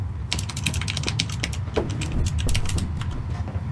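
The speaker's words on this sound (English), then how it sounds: "I hear you, hey, I hear you typing, Dark." Rapid keyboard typing in a Garry's Mod prop hunt match on PC, bursts of clicky keystrokes in an irregular rhythm over a steady low background hum, fairly close.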